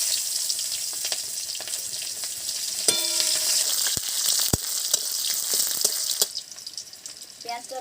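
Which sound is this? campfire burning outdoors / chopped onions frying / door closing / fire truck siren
chopped onions frying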